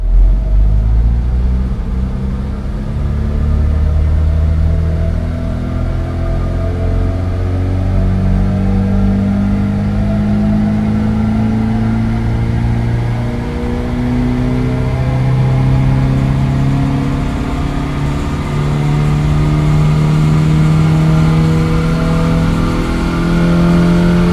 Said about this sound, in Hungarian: Fiat X1/9 megtörtént a mérés. Ugye egy karburátoros motorról van szó